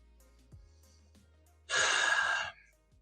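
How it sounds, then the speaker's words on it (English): A single deep breath, a long strong inhale or exhale of about a second, close and alone in a quiet room. "Take a deep breath."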